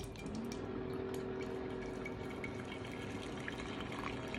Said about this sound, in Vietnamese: Rót bấm đây cái nè, bấm đây.